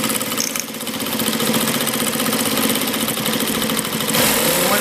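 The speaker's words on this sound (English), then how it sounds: "we put a lock stitch, as you see it sewing" A sewing machine runs a lock stitch on stretch fabric, a steady mechanical whir with rapid needle ticking that holds at an even pitch for several seconds, close and fairly loud, with no voices.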